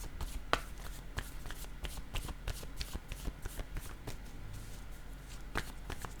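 Cards are shuffled and laid down one by one during a card reading, giving a close, quiet series of crisp slaps and riffling snaps spaced at irregular intervals.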